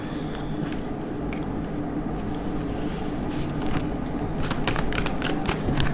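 Tarot cards shuffled and drawn by hand, with a steady crisp riffling and rapid card flicks that build into dense bursts of snapping toward the end, close and fairly loud over a constant background hiss.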